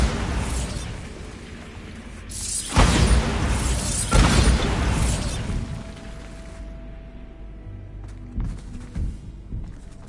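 Explosions from the Bombarda spell in Hogwarts Legacy: two heavy, booming blasts a second or so apart, each with a crackling debris tail, followed by rumbling and settling clatter, no voices.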